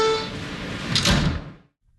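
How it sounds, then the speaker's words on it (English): Subway train doors slide shut with a loud rushing thud, following a sustained rumble of the train, then the sound cuts off abruptly. "Stand clear of the closing doors, please."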